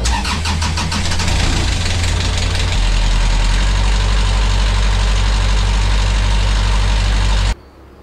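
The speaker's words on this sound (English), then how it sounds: "We're gonna test out those engines." Old catamaran's engines start and run loud and steady at close range, a heavy low rumble that thickens and settles into a constant drone, cutting off abruptly near the end.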